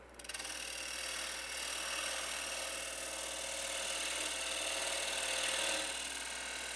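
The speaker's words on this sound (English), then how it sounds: "So going to undercut that with a little dovetail cut, check everything is clear, and true this up." A gouge undercuts a small dovetail recess in spinning wood on a lathe, giving a steady, close, continuous cutting hiss over a low motor hum for the whole stretch, with no talking.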